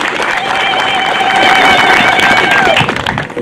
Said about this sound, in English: Kindly give her another clap.